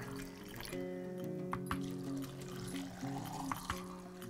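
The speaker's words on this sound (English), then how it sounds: "Pour my brine over." Brine pours into a jar of pickles with dill, a soft continuous liquid pour and trickle heard close up over a low hum, without speech.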